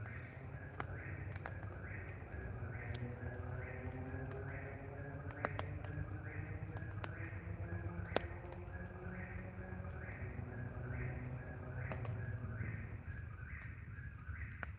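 A whippoorwill repeats its rhythmic call over and over at a steady pace against a quiet background hum, with occasional faint clicks and taps.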